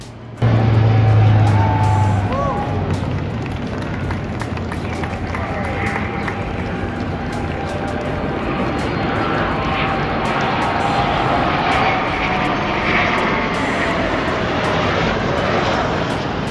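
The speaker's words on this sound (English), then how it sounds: "German Luftwaffe with a low flyover for the 4th of July party" Low flyover by German Luftwaffe aircraft at a 4th of July party, a loud, steady engine roar that holds for the whole stretch with little change.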